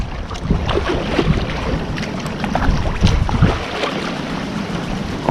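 A kayak paddled through strong wind on open water, steady gusty wind buffeting the microphone with faint splashes and paddle strokes underneath.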